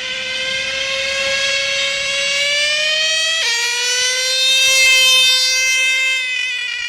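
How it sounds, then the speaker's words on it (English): A nitro engine running without a muffler gives a loud, sustained, harsh whine with a strong steady pitch that jumps abruptly midway and then slowly rises and falls. "Nitro without muffler."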